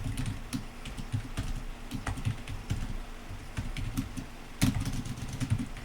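Steady typing of code on a computer keyboard, with quick, uneven clusters of key clicks up close and one louder tap burst partway through, with no speech over it.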